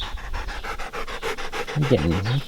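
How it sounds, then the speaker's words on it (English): A farm dog panting rapidly and close by, quick rhythmic breaths repeating steadily, with a voice briefly speaking near the end. "He's a good dog."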